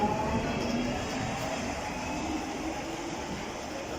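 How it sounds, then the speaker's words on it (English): A London Underground Jubilee line train pulls into Wembley Park station, a steady loud rumble of wheels on rail with broadband roar that eases slightly as it slows, no talking. "And as this one pulls in, there goes the Jubilee line service to Stratford."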